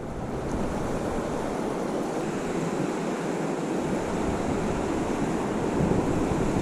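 Swift water of the Truckee River rushes steadily nearby, a loud, continuous broadband roar with no voices.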